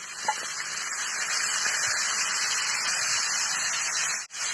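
Vegetables tipped into a hot pan of oil with onions, giving a steady close hiss and sizzle that runs almost the whole time before a brief drop near the end, with no talk.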